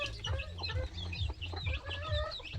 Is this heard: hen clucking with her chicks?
yes